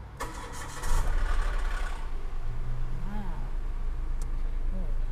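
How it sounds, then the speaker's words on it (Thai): A Mitsubishi Attrage car engine turns over and settles into a steady, low idle rumble close by, with a faint voice in the background. "เดี๋ยวฟังเสียงเครื่องยนต์กันนิดนึงค่ะ"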